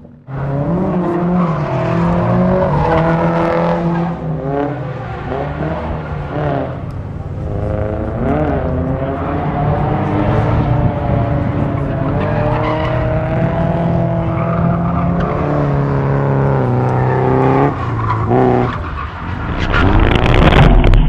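A drift car in Arizona, engine revving hard with shifting pitch and long tire squeals and skids, loud and close throughout with surges near the end.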